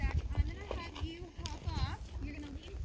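A horse walks on a trail ride, its hooves clip-clopping in an uneven rhythm close by while people talk over the steps.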